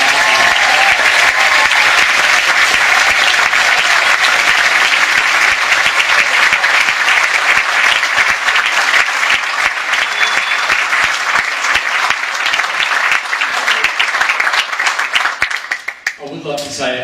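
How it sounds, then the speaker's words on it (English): A large audience at a children's school show applauds loudly and at length, a dense wash of clapping close to the microphone with a few voices mixed in before it cuts off near the end. "So can we have another big round of applause?"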